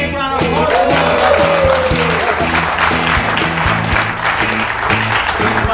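An audience at a live mentalism stage show applauds a volunteer called up from the crowd: dense, steady clapping throughout, with a low musical backing underneath and a brief voice near the start.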